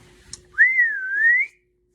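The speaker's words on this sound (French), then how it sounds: "Il sort dehors et il siffle." A single sustained whistle from a character in the Petit Poilu cartoon, holding a clear tone for about a second with a gentle dip and rise, preceded by a soft click and followed by silence.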